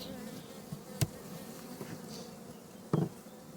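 A low, continuous hum of many honey bees buzzing up close inside a hive, broken by a couple of brief knocks, with no voices.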